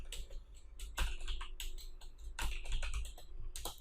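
Typing on a computer keyboard, with irregular bursts of close, crisp key clicks and occasional heavier keystrokes, no voices.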